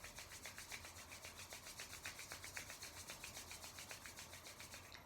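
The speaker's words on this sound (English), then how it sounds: "Rub your hands together." Palms rub briskly back and forth in a fast, even rhythm, a soft dry swishing close to the microphone with no voices.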